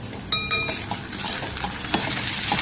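Semolina and jaggery lapshi sautéed in ghee in a pan gives a steady close sizzle, with a spoon scraping and clinking against the metal throughout.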